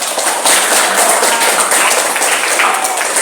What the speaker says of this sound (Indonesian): Ya, oke anak-anak, tepuk tangan.